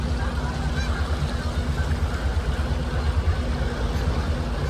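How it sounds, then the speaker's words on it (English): Small flock of geese honking as they come in to land over Great Lakes water near a fishing charter boat, steady broadband wind and engine rumble underneath with faint calls throughout. "Oh, a little flock of geese coming in for a landing here."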